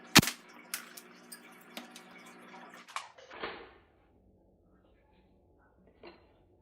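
Airsoft pistol shots striking an airsoft mask: a sharp initial crack followed by several lighter impacts and clatters spaced about a second apart, then a short rattling burst before fading to near silence with one faint tap.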